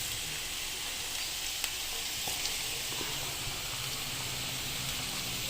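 Onions drop into hot oil where potatoes are frying, giving a steady soft sizzle and hiss with a few small crackles, fairly quiet and close.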